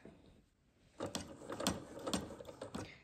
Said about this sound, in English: Start sewing and then back tack.